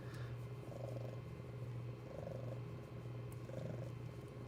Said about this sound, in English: She is a seal point snow bengal